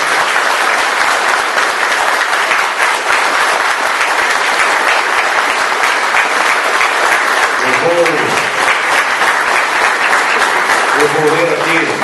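Loud, dense, sustained applause from an audience honoring students at a mayoral candidates' debate in São Joaquim, continuous for several seconds with brief voices rising underneath near the end.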